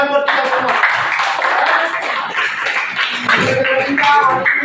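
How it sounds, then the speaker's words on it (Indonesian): Students in an eighth-grade classroom clap together at the end of a lesson, a loud dense patter of hands mixed with voices and chatter throughout. "Tepuk tangan buat kita semua."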